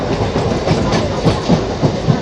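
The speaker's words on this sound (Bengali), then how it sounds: "এই ট্রেন ছেড়ে দিল।" A train rolls on rails just after leaving a station, giving a loud, continuous rumble with a rhythmic clickety-clack of wheels over rail joints.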